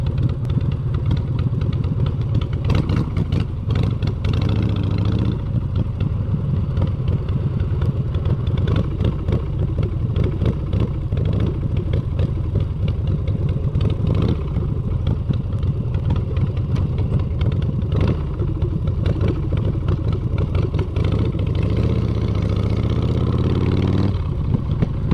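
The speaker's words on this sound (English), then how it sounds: "Hey, we got a biker beside us here." Harley Davidson motorcycle engine idling close beside a car in traffic, a steady low rumbling throb that holds throughout with slight rises, heard from inside the car.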